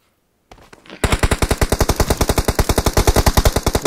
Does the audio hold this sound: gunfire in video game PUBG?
yes